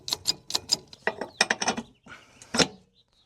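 Ratcheting wrench clicks in quick bursts while U-bolts are fastened onto a camper axle during suspension work, several rapid clusters of sharp metallic clicks with brief pauses between, close and fairly clear.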